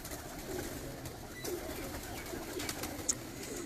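Pigeons coo softly on a rooftop, low murmuring calls repeating under a faint background hum, quiet and somewhat distant.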